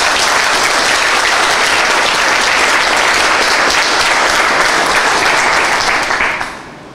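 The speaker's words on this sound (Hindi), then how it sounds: "तो आप लोग एक बार अपने ईमानदारी के लिए अपने ऊपर ताली बजाइए" Loud, dense applause from a large crowd, sustained evenly for several seconds before quickly dying down.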